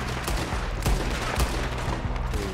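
Dense rattling gunfire in Red Dead Redemption 2, several sharp shots cracking in quick succession over a loud, continuous din, no voices.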